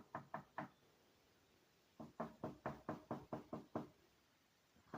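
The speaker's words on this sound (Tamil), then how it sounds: "அன்று இரவு மீண்டும் ஒருவர் கதவை தட்டும் சத்தம் கேட்டது" Knocking on a wooden door at night: a quick burst of three knocks, a pause of over a second, then a longer run of about eight evenly spaced, fairly loud raps, in an otherwise quiet room.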